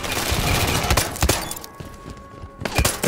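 Automatic weapon fire in a Halo 5 slayer match sounds in quick loud bursts with sharp individual cracks, broken by a short lull with a faint electronic tone before the firing resumes. A faint voice is briefly heard.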